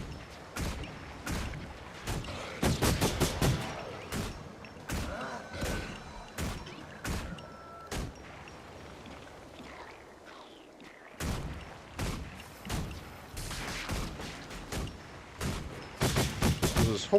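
Rapid pistol gunfire in the Guild Wars 2 video game, with bursts of sharp loud shots in quick clusters and a brief lull midway before the firing resumes, over a faint game ambience.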